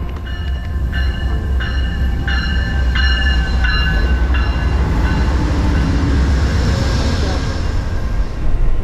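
Interior of a crowded passenger train in motion, a steady loud rumble of wheels and carriage noise with faint voices of riders mixed in throughout.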